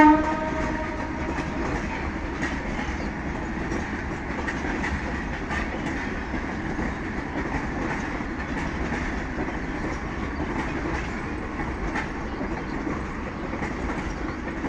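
A Bangladeshi passenger train out of Rajshahi, bound for Joydebpur station on a winter morning, rolls past with a steady, fairly distant rumble and clatter, and its horn sounds over the noise.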